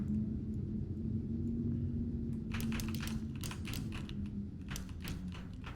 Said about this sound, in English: There's clicking and stuff happening.